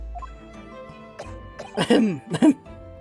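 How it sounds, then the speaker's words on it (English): A few quiet clicks and thumps, then two harsh, throaty coughs close up in the game Great Ace Attorney: Adventures, the second a brief separate hack. "You seem to be coughing up some"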